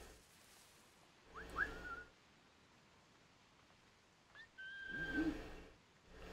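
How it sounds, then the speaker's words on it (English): Two short, thin whistles ring out in the video game Assassin's Creed 4, each a single sustained tone over soft rustling background noise, separated by a few seconds of near quiet. "Don't go crazy with the whistles."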